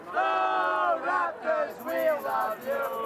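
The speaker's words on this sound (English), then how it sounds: "there's a lot of cheering behind you" Crowd of fans cheering and shouting behind a reporter at the Toronto Raptors NBA championship celebration, a loud sustained roar of voices with rising and falling yells.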